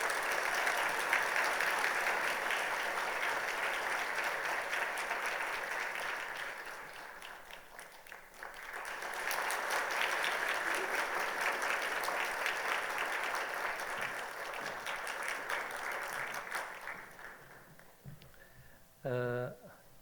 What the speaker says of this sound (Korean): 큰 박수로 한번 격려하도록 하겠습니다